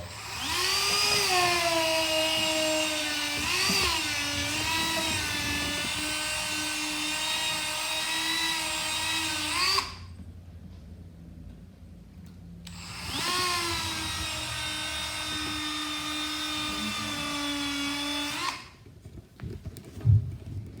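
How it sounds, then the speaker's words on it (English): A motorized buffing wheel spins up against a stringed instrument part to generate heat, a loud whining tone rising and settling into a steady high drone, cutting off, then running again for several seconds before stopping. "we're gonna generate some heat on this just by using my buffing wheel"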